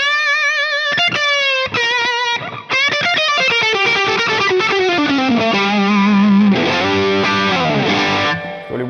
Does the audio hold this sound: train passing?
no